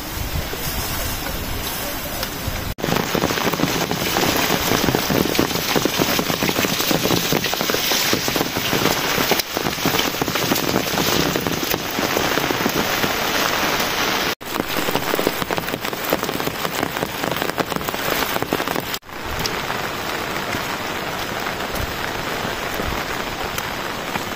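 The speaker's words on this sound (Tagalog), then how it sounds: "Lakas na yung ulan." Heavy rain with wind pounding on surfaces, a dense, loud, continuous roar of drops that stays steady throughout with no voices over it.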